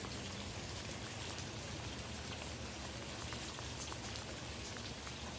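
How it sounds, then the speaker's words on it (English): Light rain pattering steadily on tomato plants in a home garden, a dense, even hiss of drops continuing throughout at moderate level with no talk. "The raindrops on my tomatoes are making me happy."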